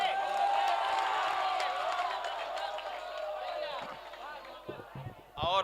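An audience at a 2020 Urdu poetry mushaira in Azamgarh erupts in loud applause mixed with cheering and whooping voices, fading gradually before a few sharp sounds close it.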